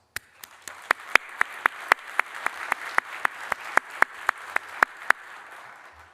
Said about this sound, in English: Members, please give yourself a round of applause.